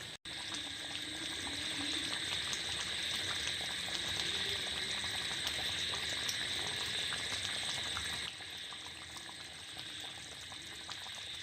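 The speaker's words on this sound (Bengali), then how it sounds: "তাতেই মাংস সেদ্ধ হয়ে যায়" Chicken kosha simmers in a covered pot in its own onion and meat juices, giving a steady bubbling hiss that holds level for about eight seconds and then drops a little quieter.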